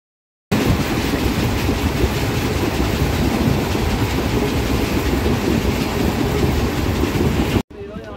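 The Tirupati–Puri Express runs at speed, a loud, continuous rumble of wheels and carriage noise heard from inside the train, starting abruptly and cutting off near the end.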